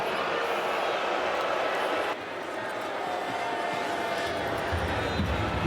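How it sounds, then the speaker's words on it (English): A football stadium crowd at a Toronto Argonauts vs BC Lions game reacts to a penalty announcement, giving a broad, steady roar with a slight dip midway, loud and continuous, with talk over it. "Crowd not liking that announcement by Tim Croker there"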